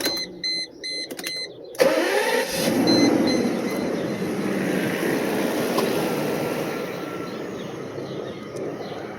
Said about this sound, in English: the engine runs really good